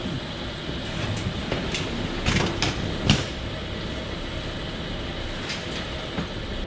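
Inside Oslo Central railway station, a steady low rumble of rail traffic fills the hall, with several sharp clanks and creaks of moving train mechanisms cutting through at a moderate distance.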